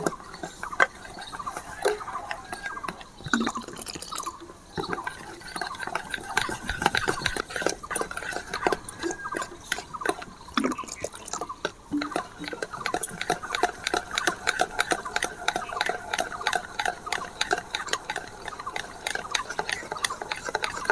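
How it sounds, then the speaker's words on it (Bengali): Gram flour batter whisked with water in a bowl, giving a fast, steady rhythmic scraping and tapping close up that runs throughout with no pauses. "ভালো করে আমি ফেটে নেব।"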